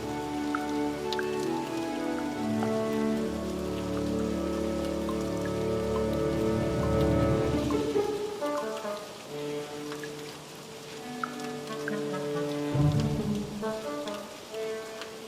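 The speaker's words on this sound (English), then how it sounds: "Half-brothers Zola and Shauna love the rain" Steady rain falls on a gorilla enclosure at a zoo, a soft, continuous patter with scattered drips and a faint tonal hum in the background, no voices present.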